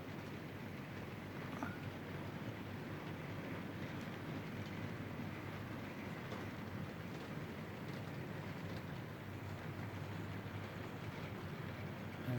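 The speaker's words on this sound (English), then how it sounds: "So here we have the banana train." An OO gauge model banana goods train runs on its layout, a continuous low rumbling and rolling hum with faint rail clatter, steady and quiet throughout, no talk.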